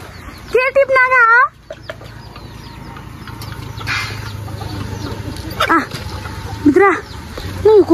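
Farm chickens cluck and squawk in bursts near the microphone, over a steady outdoor background; a person talks among the calls and a dog may be heard.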